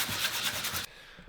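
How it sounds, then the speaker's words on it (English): Hand sanding a plastic fuel tank from a 1991 Honda CR125 motocross bike, with a close, rhythmic rasping of abrasive strokes that stops abruptly partway, leaving quiet. "After a clean, I get to work sanding it down."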